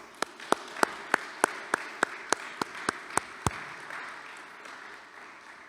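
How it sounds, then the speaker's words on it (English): At a school chapel assembly, sharp, evenly spaced claps ring out about a dozen times to welcome a speaker, then stop, leaving a faint room murmur. "Please join me in giving him a round of applause."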